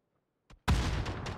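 One short pop, then a loud sudden gunshot or blast that rings out with a lingering rumble, heard during PUBG console league play.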